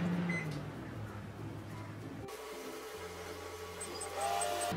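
Oven being switched on to bake a carrot cake: a steady mechanical hum that shifts tone partway through, with a few faint electronic beeps near the end and no speech.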